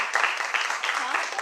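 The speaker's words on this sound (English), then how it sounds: "I want everybody to give a round of applause for Patricia's bracelet and ring." Audience applause at a UNIA & ACL community gathering in Buffalo, NY: a dense, steady wash of many hands clapping close by, with voices mixed in throughout the short burst.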